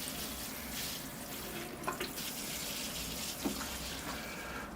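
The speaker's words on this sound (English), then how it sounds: "Gotta wash all that sand out of the moss." Water runs steadily over the moss on an African style Serissa bonsai, rinsing sand out of it, a continuous close hiss with a few soft splashes and drips.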